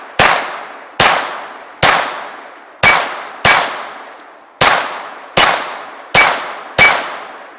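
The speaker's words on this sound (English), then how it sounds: "I forgot how much fun that this little SR22 is to shoot." Nine sharp metallic clangs ring out as .22 LR rounds from a Ruger SR22 pistol strike steel plates, evenly spaced about once per second, each ringing briefly before fading; no talk.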